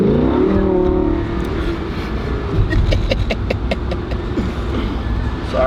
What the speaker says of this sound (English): It's like when you push the gas, the car like doesn't move right away.